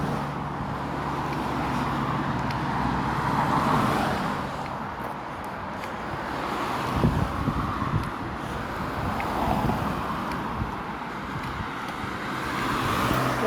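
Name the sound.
Ford Escort Mark 1 car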